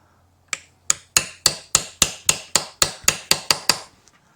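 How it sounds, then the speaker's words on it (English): Metal chisel struck about twelve times on a stuck insert in an old Evinrude boat motor, sharp close hammer taps in a steady rhythm roughly a third of a second apart, with no talk. "See if I can take a little chisel here and get it to start moving maybe."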